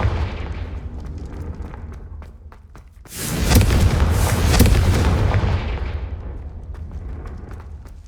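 A Confringo fire spell blasts in Hogwarts Legacy, a sudden loud booming burst that swells and slowly fades over a low rumbling background.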